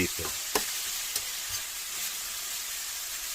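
Onions sizzle steadily in a hot pan, with a few light scraping taps of a utensil stirring them near the start.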